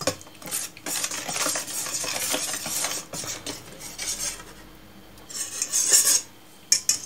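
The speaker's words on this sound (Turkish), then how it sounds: "Şu şekilde karıştıracağım." A metal spoon stirs a spice mixture for chicken skewers in a bowl, making continuous close scraping and clinking, then a pause, then a few final rattling strokes.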